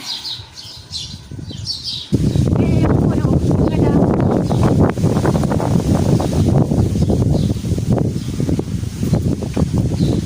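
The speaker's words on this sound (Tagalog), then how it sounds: "Sobrang lakas ng hangin, malaking hangin." Strong wind roars and buffets the microphone continuously at midday in Saudi Arabia, after a quieter opening with faint bird calls, loud and close throughout.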